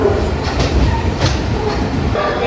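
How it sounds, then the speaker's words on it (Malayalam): A train pulling into Palakkad Junction railway station gives a loud, continuous rumble of wheels and carriages with a rhythmic clickety-clack and occasional brighter rattles. "രണ്ടേ 32 ആയപ്പോൾ നമ്മളങ്ങനെ പാലക്കാട് ജംഗ്ഷൻ റെയിൽവേ സ്റ്റേഷനിലേക്ക് എത്തി"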